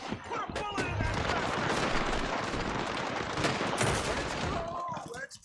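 A dense, continuous barrage of gunshots in Red Dead Redemption 2 crackles and booms for several seconds, with a voice briefly heard over the shooting.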